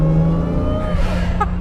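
A twincharged 1JZ engine in a Toyota Soarer with its supercharger switched on hums and whines steadily from inside the car, a continuous loud drone with rising tonal harmonics.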